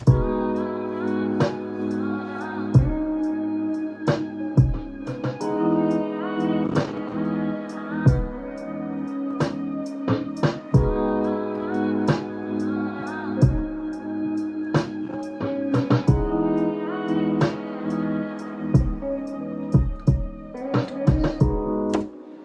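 A mellow R&B loop with a steady kick, ticking hi-hats and a snare backbeat under sustained chords, repeating evenly at a relaxed tempo.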